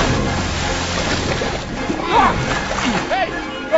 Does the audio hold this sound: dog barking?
no